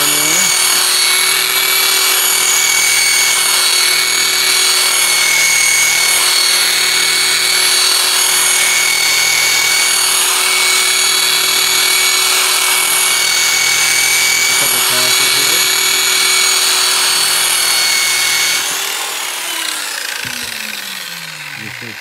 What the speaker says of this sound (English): we're gonna go to this 240 grit Scotch-Brite roller for the restore